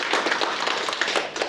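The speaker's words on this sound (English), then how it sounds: "give a clap for Sarah" Wedding guests applauding for the bride Sarah, a brief burst of dense, close clapping from a crowd that carries on through the moment.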